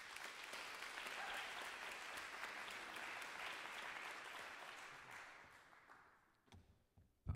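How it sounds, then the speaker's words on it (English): An audience at a spoken-word poetry night gives a full round of applause that swells, holds steadily, then tapers off into a few scattered claps and light noise at the end. "Ladies and gentlemen, please give this gentleman a round of applause."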